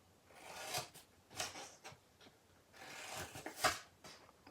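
Paper being trimmed at the corners while building a drawer box, a few soft rubbing, cutting strokes in quick bursts, close and faint with no talk.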